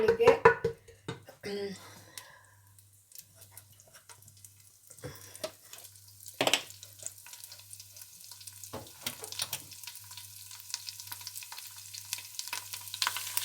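Ground onion frying in ghee in a pan for a malai kofta curry masala, a steady low sizzle broken by scraping stir strokes and a few sharp clinks, with a voice faintly present now and then.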